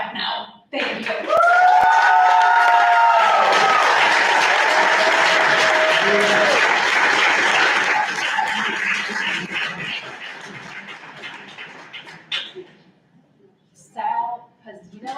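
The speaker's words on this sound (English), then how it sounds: "You can all clap now." At a city council meeting, the audience bursts into loud applause that swells, holds, then tapers off, with a few voices and laughs mixed in and speech after it fades.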